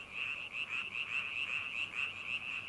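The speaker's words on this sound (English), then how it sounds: "The largest males have the loudest croaks, and they have the best chance of mating." Male frogs in a swampy forest in Ussuriland, a loud continuous chorus of croaks close by, with pulsing repeated calls and no voices.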